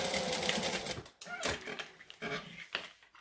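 Sewing machine stitching along the edge of a bag, bursts of rapid stitching broken by short pauses, fairly close and moderately loud.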